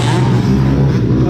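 Racing quads at the start of a harescramble race in 2021 roar together, a loud sustained engine drone with revving throughout, under talk.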